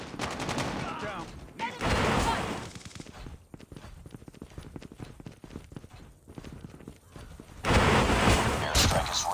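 Gunfire from the AK117 Dragon's Breath weapon in the mobile shooter game Call of Duty Mobile, bursts of rapid rattling shots separated by a quieter stretch of single cracks, loud and close, with game effects around them.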